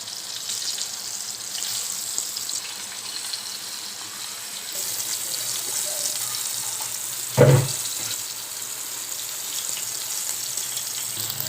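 Pomfret fish frying in a pan of hot oil gives a steady, close sizzle throughout, with one brief louder clink partway through and no voices.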